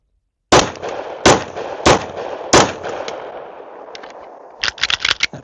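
Four sharp, loud pistol shots from a Glock 43x fitted with a Dagger micro ported slide, spaced evenly about two-thirds of a second apart with ringing decay, followed by a quick cluster of metallic clicks and handling noise.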